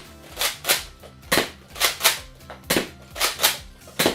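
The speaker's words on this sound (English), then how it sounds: "You can prime, load, and fire that pretty easily." Toy Nerf blaster handled at close range: a repeated sequence of sharp plastic clacks and snaps from priming, loading and firing, arriving in quick irregular bursts with no talking.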